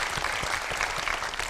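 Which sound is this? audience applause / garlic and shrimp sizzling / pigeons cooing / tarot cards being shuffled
audience applause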